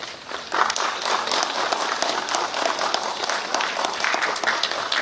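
An audience gives a big round of applause at an official event in Southwest Khasi Hills as a document and booklet are released, with steady dense clapping filling the room for several seconds.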